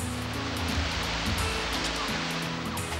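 Cartoon ocean waves rolling and surging in a steady, loud wash of surf, with rhythmic swells and splashes close by and no voices.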